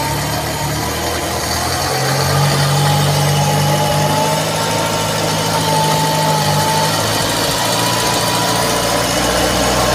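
Mitsubishi L300 engine idling during carburetor adjustment, running lean on fuel, a loud steady close-up idle with an even mechanical hum and a faint rise in tone partway through, no voices.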